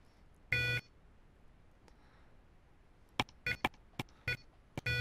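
Electronic beeps from a Time Tracking Radar Clock being set in clock mode: one longer tone early on, then a quick run of short, near beeps toward the end, with quiet gaps between.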